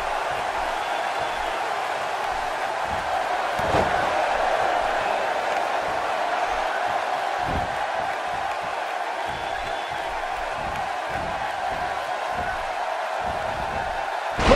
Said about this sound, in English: He slams him down with authority.